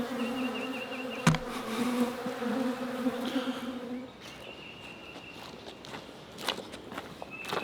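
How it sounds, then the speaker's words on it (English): Bees buzz persistently close around a beekeeper, a steady droning hum with passing flyby swells, joined by footsteps and rustling as he walks. "there's still a bee or two that won't give it a rest. They're still following me around"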